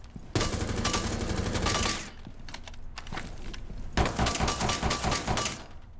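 Rapid bursts of automatic gunfire in the video game Rainbow Six Siege, two dense volleys separated by a short lull with scattered single shots, sharp and close.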